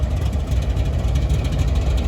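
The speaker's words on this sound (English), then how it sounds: "Now the second engine is a very common locomotive type, the C44-9W." Norfolk Southern C44-9W diesel locomotive, upgraded from a C40-9W, passing close on the Pittsburgh Line in open country, a loud continuous low rumble with an even, churning engine texture.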